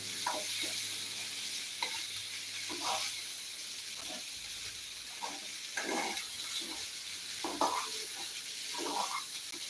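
Cooked green gram (payar) stirred in a pan to dry off the water, a soft steady sizzle and hiss under repeated scraping stirs of a spoon, fairly quiet and without talk.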